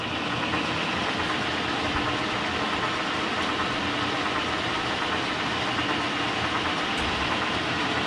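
A K&T milling machine idles with its spindle stopped while the oil pump runs, giving a steady, dense mechanical hum and churn that holds even and continuous throughout.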